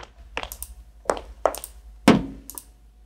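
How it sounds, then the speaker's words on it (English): A wood creak sound effect plays as a short series of dry knocks and creaks, about six separate hits spaced unevenly, the loudest near the end with a deeper low end, close and isolated. "Creaky wood. I like the lower end on that."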